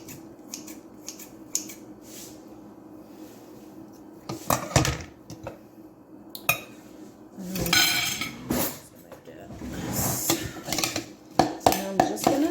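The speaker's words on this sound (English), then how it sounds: "I'm just gonna mix this until I have a bit consistency and quite a bit of sprouts mixed into it" Bird food being mixed with sprouts in a dish, with scattered clinks and scrapes of utensil against dish, irregular and close, growing busier and louder toward the end.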